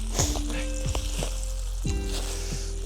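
Burgers sizzle loudly and continuously on a tuna can burner, with occasional clinks and scrapes of a utensil over the steady frying hiss.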